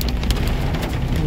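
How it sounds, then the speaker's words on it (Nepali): Hail and heavy rain drum down during a drive, a dense, loud, even patter with sharper pellet hits scattered throughout and no talking. "असिना पानी पर्दैछ एकदम"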